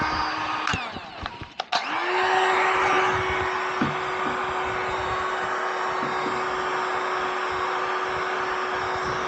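A heat gun kicks on after a few clicks and handling noises, then blows hot air in a loud, steady whine with a constant tone while reheating the back of a TPE companion doll during repair.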